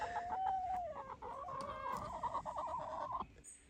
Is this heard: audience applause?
no